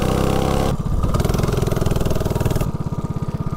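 A small mini bike engine running without a head gasket putters loudly nearby in a rapid pulsing rhythm that briefly changes pitch before settling.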